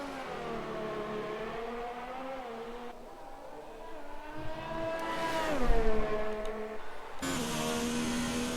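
Formula 1 race car engines in a video game at the Hungarian Grand Prix, a steady high whining drone with shifting pitch as the cars accelerate and change gear, heard continuously at moderate level.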